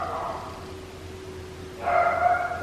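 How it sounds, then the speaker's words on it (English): A pet dog in a New York City apartment gives two soft, whining barks or yips a couple of seconds apart, the second louder, over a quiet room hum. "My dog."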